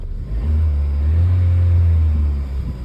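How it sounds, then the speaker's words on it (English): Car engine with a coolant flow fault, overheated after a coolant leak, revving steadily and loudly as a deep, sustained rumble held for a couple of seconds, heard up close and alone. "see if I can rev it up a little bit"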